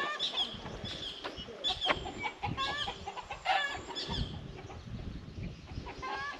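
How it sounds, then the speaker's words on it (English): Several chickens cluck and squawk close by in an uneven, overlapping chorus on Banton, Romblon, in the Philippines, with short sharp calls scattered over a few seconds. "There's a bunch of chickens here."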